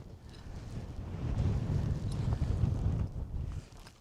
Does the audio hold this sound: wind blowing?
yes